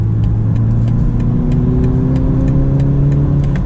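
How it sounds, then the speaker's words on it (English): A BMW 330i xDrive with a 4-cylinder engine accelerates to merge into traffic, its steady engine note rising in pitch under constant road and wind noise, heard from inside the cabin without talk. "let's do some accelerating here with our 4-cylinder, see if we have enough power to merge into traffic"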